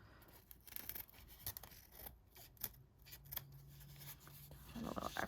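Small scissors snip in quick, irregular bursts while trimming a craft gnome's beard, close and faint, with light rubbing sounds between cuts and no talking.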